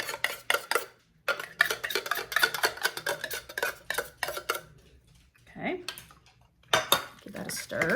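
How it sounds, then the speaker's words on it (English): Tuna and mac and cheese casserole stirred with a knife in a casserole dish, a run of close metallic scrapes and clinks against the dish with short pauses between strokes. "Yes, I'm stirring with my knife, y'all."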